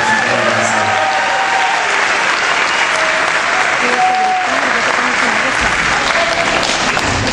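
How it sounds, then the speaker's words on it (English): Audience applause at a senior awards ceremony, a loud, steady wash of many hands clapping that fills the room without a break. "let's make sure we give them a round of applause too for supporting us"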